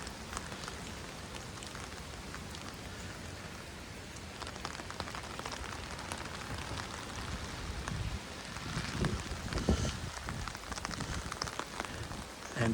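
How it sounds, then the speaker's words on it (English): Steady rain falls close by beside a winter creek that has just begun flowing, with willows nearby. The patter is dense and continuous throughout, growing slightly heavier near the end, with no voices. "Which has just started flowing with this rain."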